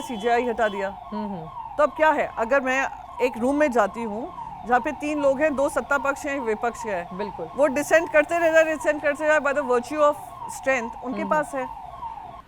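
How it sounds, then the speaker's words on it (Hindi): An ambulance siren passes outside during an indoor interview, a faint steady wail running under continuous close conversation. "बाहर एम्बुलेंस की आवाज भी आ रही थी"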